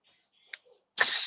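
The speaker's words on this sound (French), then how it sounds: "J'ai dit, tu vois que moi, j'ai éternué." A single sharp human sneeze, close and loud, comes after a moment of near silence with a couple of faint soft sounds, from someone who mentions feeling a cold coming on.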